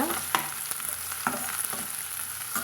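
Onions for a potato masala sizzle and crackle steadily in a pan, with a spoon or spatula scraping through them a few times.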